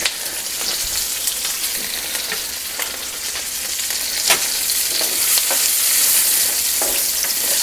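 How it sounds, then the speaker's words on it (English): Food sautés in a pan on low heat, a steady close sizzle and crackle with occasional scraping stirs, and no talking over it. "She says to saute these on low."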